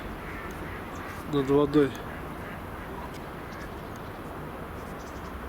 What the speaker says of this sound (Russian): Утки пошли